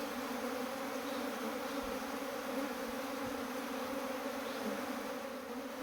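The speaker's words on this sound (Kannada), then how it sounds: "ಈಗ ಪೆಟ್ಟಿಗೆಗೆ ಜೇನು ಹಾಕ್ತಾ ಇದ್ದೀವಿ ನೋಡಿ" A swarm of honeybees is put into a hive box, making a steady, dense, close buzzing drone that holds evenly throughout with no voices.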